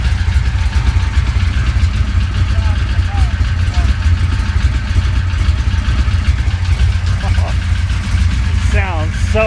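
A 1966 Chevy Impala with a 427 V8, brought back after twenty years abandoned, runs at a steady loud idle close by, its low rumble continuous throughout while people talk over it.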